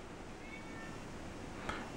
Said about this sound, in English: And there's the damn cat at the window.